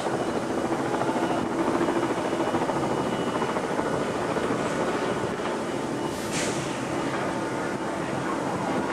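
A navy helicopter approaching the supply ship USS Niagara Falls (AFS-3) at sea, its rotor thumping in a steady, loud pulse against wind and engine rumble, with a brief higher whine rising midway.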